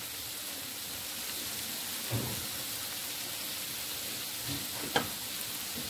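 Okra fries in a pan over a medium-low flame, a soft steady sizzle with a few faint stirring knocks, quiet and without voices.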